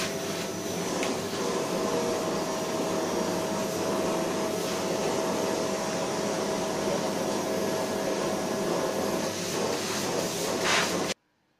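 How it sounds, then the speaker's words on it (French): A vacuum cleaner runs steadily, pulling hair and dust out of hairbrushes with a constant whining hiss and drone, close and fairly loud, before cutting off abruptly at the end. "enlever les poils et la poussière avec l'aspirateur"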